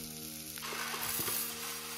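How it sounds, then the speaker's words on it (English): Mushrooms sautéing in olive oil with salt give a steady, close sizzle and hiss, with a few soft utensil clinks against the pan partway through. "I just sauteed the mushrooms in some olive oil with salt."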